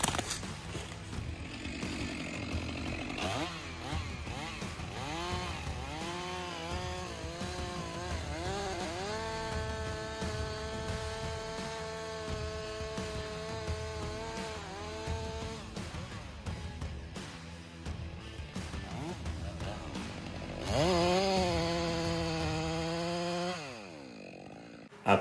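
A chainsaw bores a plunge cut into a heavy leaning tree, the engine held loud and steady at high revs with rising and falling pitch, then revving up sharply again near the end.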